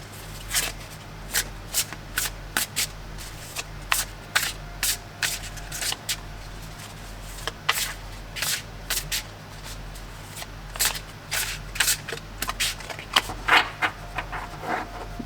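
A gilded-edge Alchemical Tarot deck, fifth or first edition, is shuffled close up. Crisp riffles and card slaps repeat in quick irregular bursts with short pauses, over a faint steady hum.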